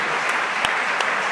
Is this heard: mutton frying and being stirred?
no